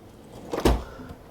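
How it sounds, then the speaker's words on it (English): A drawer in a built-in set of storage drawers in a New York City apartment slides open with one short, muffled thump, quiet against a faint room hum, with no one speaking. "So you can open it up, and I have a whole nother set of drawers."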